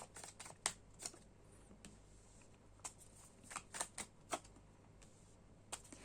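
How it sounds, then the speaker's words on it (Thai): Tarot cards being shuffled by hand: soft, faint, irregular clicks and snaps of cards against each other, scattered in small bursts over a quiet background. "เมื่อกี้มันติดกันมาสองใบเนาะงั้นก็เลยสับใหม่นะคะ"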